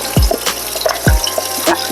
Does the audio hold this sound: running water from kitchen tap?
yes